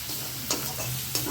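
Frying spices for lote fish momos hiss steadily in a pan while a spoon scrapes through them in two or three quick stirring strokes, close and alone.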